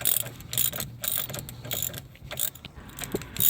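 A ratchet clicks in quick, uneven bursts as a self-locking nut is spun onto a front control arm ball joint of a 2013-2016 Dodge Dart, close and fairly quiet with no talking.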